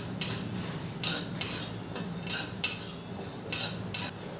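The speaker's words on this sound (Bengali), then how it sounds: "জোয়ানটা দিয়েও হালকা নেড়ে নেব" Whole spices with carom seeds being stirred in a pan with a metal utensil, giving a series of sharp, fairly loud scraping clinks at an uneven rhythm over a soft, steady sizzle, with no voices.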